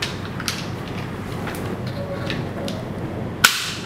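A HERCULES DG305B tablet holder is fitted onto a mic stand: soft creaks and handling rustle, then a single sharp, close snap as it locks into place near the end.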